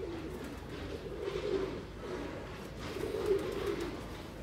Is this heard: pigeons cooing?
yes